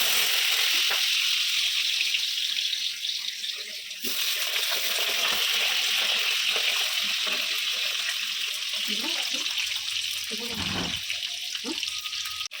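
Potato pieces sizzle and crackle in hot oil with whole spices during home cooking, a steady bright hiss running throughout, with a few soft clatters and a brief louder gush near the end.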